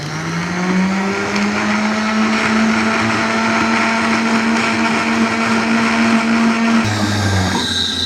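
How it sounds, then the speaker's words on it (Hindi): An electric grinder blends chutney spices, a loud, steady motor whine that runs continuously and then drops in pitch near the end as it winds down. "इसको ग्राइंड कर लेंगे"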